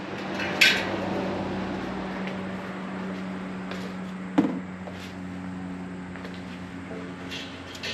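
Metal ash pan of a Solo Stove Yukon 2.0 fire pit being handled and lifted out, giving a sharp clink early on and another metallic knock a few seconds later over a steady low hum.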